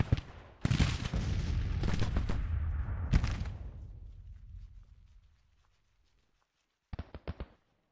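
Artillery fire in Grand Tactician: The Civil War, a Civil War strategy game: loud rolling booms and crackling volleys that fade into a long rumbling decay, then a short cluster of sharper shots after a pause.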